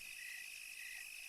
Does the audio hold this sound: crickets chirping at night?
yes